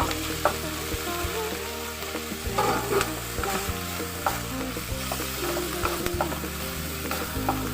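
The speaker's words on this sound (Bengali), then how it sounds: "এবার আমি আদা রসুনের পেস্টটা দিই" Ginger garlic paste fries in a pan for Bengali mixed dal, a continuous close sizzle broken by scattered scraping and clicking stirs, with no voices.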